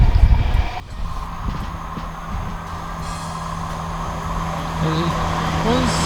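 A passing train near Swindon station rumbles steadily with a low engine hum and track noise, a sharp clunk near the start, while someone talks over it.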